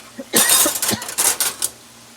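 A few short coughs in quick succession, fairly close, with faint clinking of dishes in the background.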